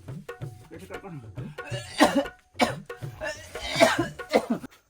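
A man in a rural Chhattisgarhi comedy skit coughs in several harsh, throaty bursts, mixed with groaning voice sounds at close range.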